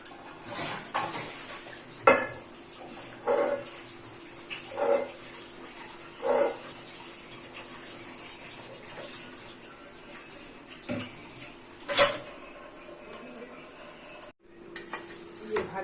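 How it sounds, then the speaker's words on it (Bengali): Dishes being washed while food cooks nearby: intermittent clinks and knocks of utensils and pots over a faint background hiss, close and fairly quiet. "এদিকে রান্না হতে হতে বাসনগুলো ধুয়ে নেব"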